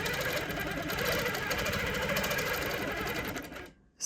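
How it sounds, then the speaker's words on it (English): QMP 20 longarm quilting machine stitching a meander pattern, a steady rapid mechanical chatter running loud and close for nearly four seconds before stopping abruptly. "whenever I'm quilting this"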